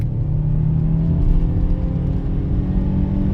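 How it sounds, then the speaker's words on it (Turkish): A Renault Megane 1.3 TCe accelerates at full throttle in sport mode, heard from inside as a steady, loud engine drone and road roar that holds constant without speech. "Mesela dip gaz yaptım bir anda."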